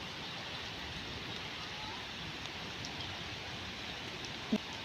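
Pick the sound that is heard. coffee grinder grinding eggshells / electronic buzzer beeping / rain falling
rain falling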